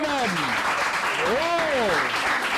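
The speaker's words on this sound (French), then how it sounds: "On les applaudit quand même." A TV game-show audience applauds steadily while voices call out and talk over the clapping.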